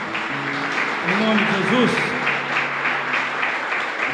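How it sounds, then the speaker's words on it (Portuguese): A church congregation applauds during a worship service for missions and Pastor's Day: a steady wash of many hands clapping fills the room, while a preacher's voice speaks over it. "Você pode dar um forte aplauso ao Senhor?"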